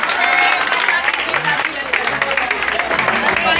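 Loud, dense applause and crowd noise fill a mock welcome for a Narendra Modi speech impersonation, steady throughout with a murmur of voices mixed in.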